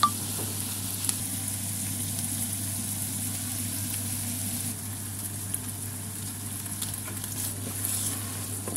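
Minced meat, mushrooms and peppers sizzle steadily in a frying pan for a macaroni sauce, a continuous close hiss with a faint background hum and no talking.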